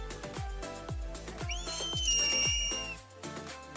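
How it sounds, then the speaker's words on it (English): A large raptor gives a loud, rising-then-level whistle like a bicycle pump, about a second and a half long and heard once, over a backdrop of rhythmic low thumping music. "It'll typically make a loud whistle that sounds a lot like a bicycle pump."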